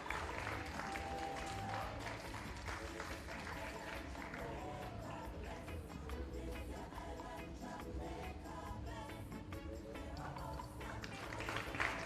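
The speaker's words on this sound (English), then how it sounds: "A big round of applause" An audience applauds an award recipient at the Marcus Garvey Awards for Excellence in the Performing Arts, with sustained clapping blended under music and room noise, faint and distant throughout.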